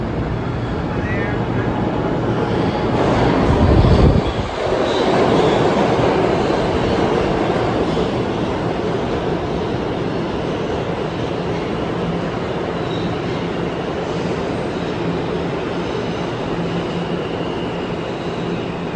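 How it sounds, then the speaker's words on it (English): New York subway train pulling into the 8 Avenue & 14 Street station: a loud, steady rumble of wheels and cars fills the platform, with a short low thud early on and a constant roar after it. "I think a train is coming"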